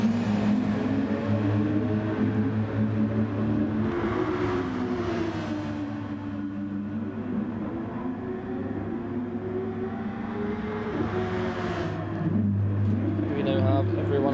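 Race cars on warm-up and cycling laps at Fuji International Speedway in GT Sport, engines droning and shifting pitch in the background beneath continuous commentary talk.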